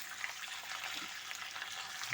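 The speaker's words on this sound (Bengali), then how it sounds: "একদমই লো করে দিয়েছি, যাতে ভালো করে মাংসগুলো ভাজা হয়ে যায়" Chicken pieces frying in a pan over low heat, a soft, steady sizzle and crackle that stays fairly quiet and even throughout.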